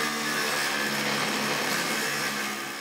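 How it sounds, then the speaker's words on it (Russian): An angle grinder cuts into a metal entrance door in an apartment building, a dense, continuous high-pitched whine and grind that stays loud and steady throughout with no talk. "со звуков болгарки по металлу"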